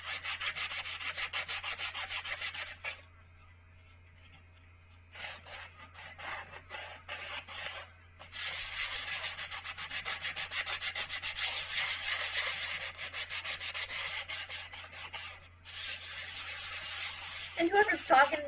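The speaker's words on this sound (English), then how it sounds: "Gotta sand it down before I work on it" A wooden plaque being sanded by hand before pyrography, a steady close scratchy rubbing in long runs broken by brief pauses, with soft speech faintly underneath.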